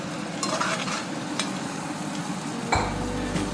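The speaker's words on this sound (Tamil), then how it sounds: "நம்ம பிசைஞ்சு வச்ச கறியை போட்டுக்கலாம்" Marinated chicken pieces dropped into hot oil with fried masala for a gravy, bursting into a loud close sizzle with stirring and a clink of utensils, continuous frying noise throughout.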